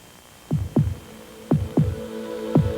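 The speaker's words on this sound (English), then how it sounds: "Listen to the heartbeat." A thumping heartbeat sound effect from a Chevrolet television commercial plays in three double beats, each a deep lub-dub pulse over a low steady hum. The beats are loud and come at an even pace.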